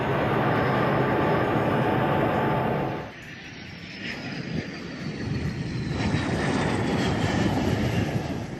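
A Philippine Air Force FA-50 fighter jet flies on arrival in Darwin, Australia, a loud, continuous roar that dips briefly, then swells again with a rising whine.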